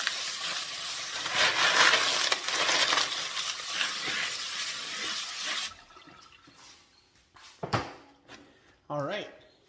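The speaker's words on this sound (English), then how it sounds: "So I'll go ahead and rinse them up a little better, wash the barrel" Tumbled polychrome jasper stones rinsed under running water, a loud steady rush for several seconds, then stones clattering and knocking with a voice speaking near the end.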